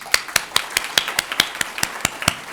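Sharp, evenly spaced claps at a school community event for art teacher Miss Flick Pascoe, about five per second, crisp and fairly close with little else around them.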